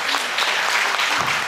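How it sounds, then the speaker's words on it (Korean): A church congregation at a Korean community gathering claps together in a brief, lively burst of applause, dense and fairly close, continuing evenly throughout. "우리 한번 다시 한번 힘있게 한번 박수 한번 부탁드리겠습니다."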